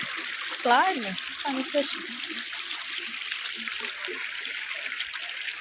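Clear water flowing in a stream in Germany, a soft continuous trickle and gurgle, fairly faint and close, with a few spoken words and a voice over it at the start.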